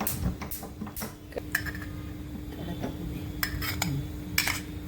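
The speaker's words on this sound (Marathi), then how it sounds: "प्रथम कढई ठेवायची ती कढई ठेवते आहे" A metal kadhai is set on the stove before ghee goes in for mutton curry. Irregular metallic clinks and light knocks sound close over a low steady hum, with no talking.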